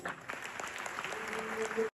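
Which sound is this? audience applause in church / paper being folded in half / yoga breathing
audience applause in church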